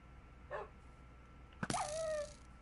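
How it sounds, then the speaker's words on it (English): A dog in Minecraft gives a short, faint yip, then a louder sharp bark with a falling whine after it. "Heard a dog too."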